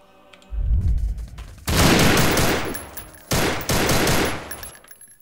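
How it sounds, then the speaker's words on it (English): Gunfire from the video game Madness Interactive Reloaded: loud, dense bursts of shots in two long volleys, with a short gap between them and a brief lull before the first. "Are the bullets too loud?"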